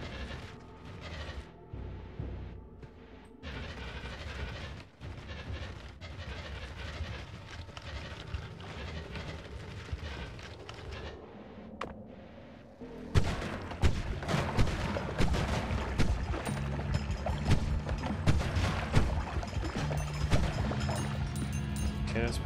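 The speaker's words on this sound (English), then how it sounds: "we have upgraded our weapon now, yeah, with homing and everything. Let's test out our weapon as well" Homing shots from an upgraded wand in the pixel-art roguelike Noita, a dense rapid clatter of firing and impacts that grows louder and busier partway through, with a voice talking over it at times.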